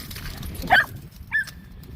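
Bonnie the dog on a field walk gives two brief high whimpering yips, close but fairly soft, over a steady outdoor background.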